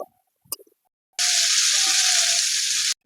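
Chili, ginger and cumin pastes hit a hot pan with a sudden loud, steady sizzle lasting under two seconds, preceded by a few faint clicks and then cut off abruptly.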